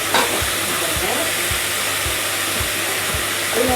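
Vegetable sambar stirred in a pan over a low flame, a steady broadband hiss of cooking with regular soft scraping strokes of the spoon about every half second, close and continuous.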